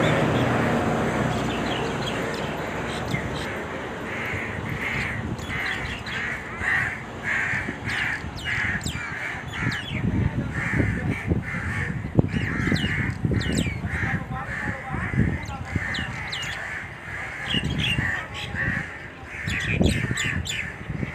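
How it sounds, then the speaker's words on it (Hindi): Crows cawing harshly and repeatedly while fighting, loud, close calls overlapping in rapid, irregular bursts throughout, with a voice talking underneath. "कौवे का बच्चा लड़ तो पूरा रहा है।"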